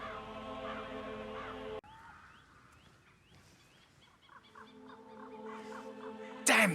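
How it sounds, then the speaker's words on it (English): Birds caw and honk repeatedly in the Dartmoor level of the Hitman 3 video game, rhythmic calls over a low ambient hum, cutting out briefly then returning before a loud burst at the end. "Damn birds! If I could just get a clear hit on those nests."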